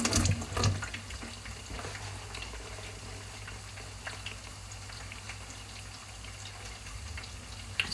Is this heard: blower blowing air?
no